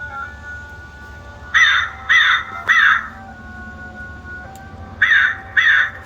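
A cheap Halloween animatronic crow prop from a party store gives five loud, harsh electronic caws, three in quick succession then two more after a pause, over a faint background hum.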